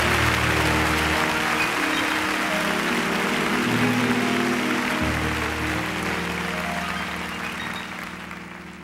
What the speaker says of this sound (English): I'll give the Lord one more clap offering.